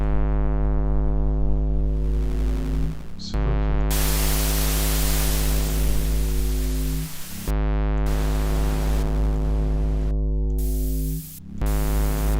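A modular synthesizer's noise generator hisses in a loud, steady broadband wash over a humming tonal drone, cutting out briefly several times; no one speaks.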